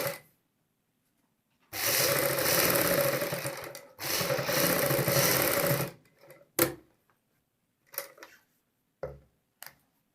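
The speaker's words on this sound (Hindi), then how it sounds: "यहाँ पे हम ऊपर की साइड एक सिलाई लगाएंगे" A sewing machine stitches a kameez collar in two loud, close runs of rapid stitching, each about two seconds long, followed by scattered clicks and taps of handling.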